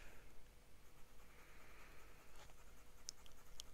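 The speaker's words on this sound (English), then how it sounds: "So again, we'll do an ink swatch." A Leonardo Officina Italiana Ferrore fountain pen with a wet nib drawing an ink swatch of blue Galaxy ink on paper: a very quiet, close, steady scratching and gliding of nib across the page.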